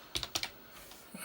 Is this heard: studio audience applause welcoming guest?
no